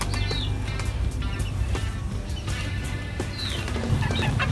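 Rhode Island Red and native chickens on a small 200 sqm farm cluck and chirp intermittently, moderately near, over a steady low rumble of background noise.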